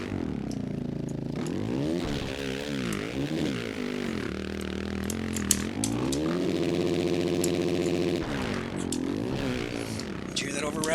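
Motocross bike engine in the MX vs. ATV All Out video game, a Pro MX 450 Nationals race, droning continuously and rising and falling in pitch as it revs hard, with a voice over it.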